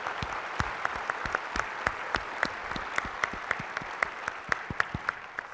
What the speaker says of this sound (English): So a big round of applause for these.